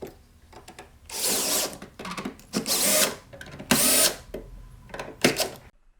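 Power drill driving screws through hinges and mounting blocks into a Baltic birch fold-away work surface, in several loud whirring bursts of a second or so with quieter pauses between, no talking.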